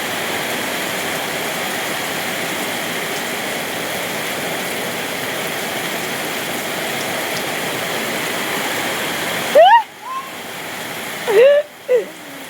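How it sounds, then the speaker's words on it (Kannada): Heavy rain pours down in a village with a dense, steady hiss close by, then breaks off near the end, where a few brief voices are heard. "ಈಗ ನೋಡಿ ನಮ್ಮೂರಲ್ಲಿ ಮಳೆ ಬರ್ತಿದೆ."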